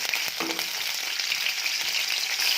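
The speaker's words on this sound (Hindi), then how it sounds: "भेंडी भाजबे।" Sliced okra (bhindi) frying in hot oil for an Odia curd-okra dish, a steady close sizzle and crackle with no talk.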